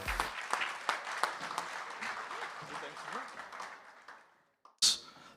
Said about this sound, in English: A warm round of applause for Joy Armitage and Wendy Probert.